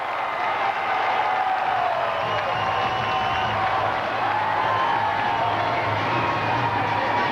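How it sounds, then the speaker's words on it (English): A hometown crowd at the 2001 NCAA gymnastics championships roars and cheers steadily, a broad sustained wash of applause and shouting filling the arena from start to finish. "Big roar of approval here from the hometown crowd."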